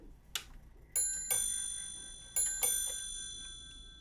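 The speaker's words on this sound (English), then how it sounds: "the striking train, which strikes bells to tell you what time it is" A mechanical watch's striking train sounds the half hour as a delicate metallic tick followed by two pairs of bright, sustained bell tones, each ringing out and slowly decaying, close and clear without any voices.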